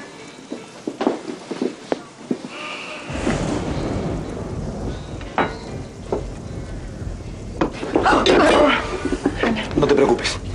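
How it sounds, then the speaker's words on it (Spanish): Thunderstorm with heavy rain during an evening dinner scene, a steady wash of rain hiss with rumbling thunder swelling and cracking louder near the end, while people talk over it. "¡Qué tormenta! No para más, ¿eh?"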